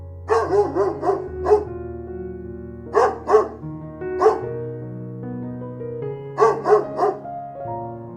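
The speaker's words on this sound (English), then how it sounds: "Dog." A dog barks in short bursts of three or four sharp yips, pausing between groups, over a steady low sustained musical tone, moderately near and clear.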